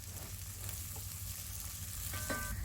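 A handful of curry leaves hits hot oil in a pan of deer curry, giving a soft, steady crackling sizzle that stays quiet and close throughout.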